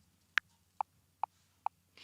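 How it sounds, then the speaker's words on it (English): Custom metronome in Ableton Live 12 ticks four times at an even pace, a sharp higher accent click followed by three softer, lower clicks, close and isolated in near silence. "So my metronome now sounds like this."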